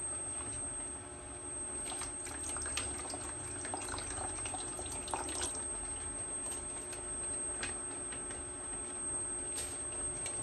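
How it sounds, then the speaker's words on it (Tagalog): Water running and splashing into a container to rinse out the last of the pure coconut milk for Filipino pinakro, a steady trickle with small clinks, moderately close and alone. "Lagyan natin ng konting tubig para masaid yung loob."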